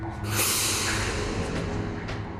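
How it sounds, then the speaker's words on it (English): A man sniffs the air in a basement while checking for a gas smell, giving a short, close, breathy snort-like inhale heard on its own. "Down in the basement, he sniffs the air."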